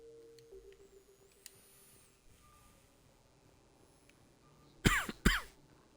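Two sharp, loud coughs come in quick succession near the end, after several seconds of faint background hum.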